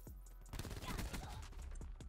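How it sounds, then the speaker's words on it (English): Rapid LMG fire in the video game Black Ops 4, a dense, fairly quiet burst of shots that swells in the middle, with a voice faintly underneath. "Why are you shooting an LMG?"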